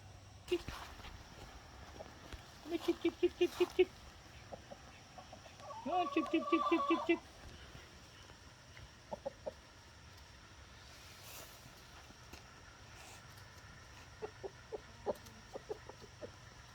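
Chickens cluck in short, scattered bursts in an outdoor garden during an onion harvest, with a louder cackling run midway and fainter calls later; a voice is faintly present.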